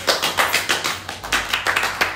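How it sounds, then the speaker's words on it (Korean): Quick, rhythmic clapping fills a bar gathering as people applaud an instructor, the hand claps close and bright, beating in a steady pattern for a couple of seconds. "우리 박수 한번 주시죠 우리 교관님한테"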